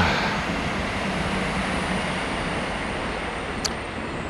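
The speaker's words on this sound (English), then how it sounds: "Another train." A train passes at a distance near a large cemetery in the UK, heard as a steady broad rumble with no one speaking, and a brief sharp click comes near the end.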